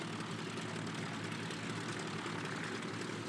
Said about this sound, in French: les avions décollaient à un rythme qui m'impressionnait